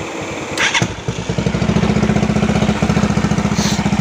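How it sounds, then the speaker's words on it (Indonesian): A motorcycle engine cranks briefly with an electric starter, catches almost immediately, and settles into a steady, close, rhythmic idle. "Mesin langsung hidup, cuma sekali starter aja langsung hidup ya."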